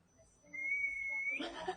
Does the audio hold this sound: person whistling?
yes